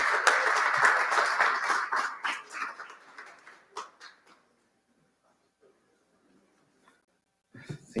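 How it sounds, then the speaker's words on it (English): Crowd applause at an ETHDenver stage event welcoming a presenter on stage, loud clapping that thins out over about four seconds, then near silence with a few small bumps and a brief noise at the end. "Everybody give him a big round of applause for Josh Ford."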